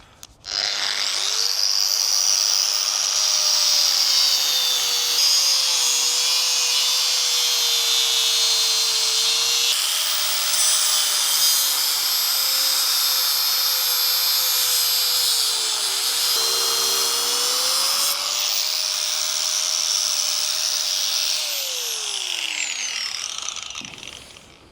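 An abrasive wheel grinds a metal fitting on a boat, a loud, steady high-pitched whine that holds for about twenty seconds with slight pitch dips under load before spinning down at the end.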